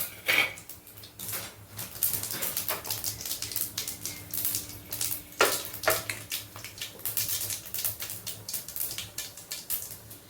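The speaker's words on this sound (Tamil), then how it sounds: "கடுகு பொரியும் போதே பட்டை என்னென்ன வாசனை பொருள் எல்லாமே எடுத்து போட்டுருவோம்." Mustard seeds and cinnamon with other whole spices spluttering in hot oil, the tempering for an egg curry: a dense run of sharp crackling pops and clicks, loud and close, with no speech.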